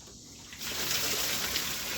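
Rainwater runs off a lifted trash can lid, a soft hiss swelling to a steady, fairly close rushing trickle after a brief quieter start.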